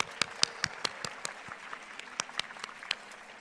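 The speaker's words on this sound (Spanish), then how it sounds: "Un aplauso." Audience applause at the Premio de la Paz award ceremony in Monterrey, Nuevo León: a fairly sparse patter of individual hand claps with a few sharper claps standing out, steady and moderately loud throughout.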